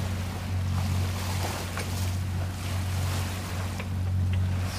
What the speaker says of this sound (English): We've been motoring for hours trying to get to Sydney, finish it up.